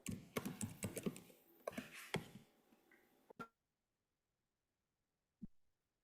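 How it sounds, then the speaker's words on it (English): Someone types on a computer keyboard in rapid, close clicking bursts for about three seconds. Near silence follows, broken by one isolated tap. "While Manuel is typing for everybody to see"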